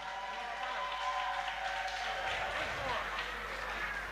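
Audience applause at a school fundraising fashion gala, a faint steady wash of clapping heard at a distance beneath a voice speaking over it.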